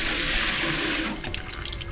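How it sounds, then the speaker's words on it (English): A garden hose sprays water to clean a hamster cage, a loud steady close-up rush that breaks into splashing, spattering bursts partway through, with no talk. "That's why I get the hose out."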